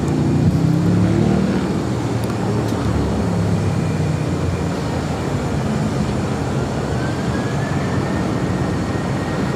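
An Avianca Cargo Airbus A330 arriving at LAX, heard as a loud, continuous jet engine roar that stays broad and steady, with a faint rising whine partway through.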